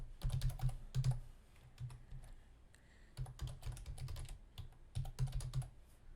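Login credentials are typed on a computer keyboard as three quick bursts of close, crisp keystrokes separated by short pauses.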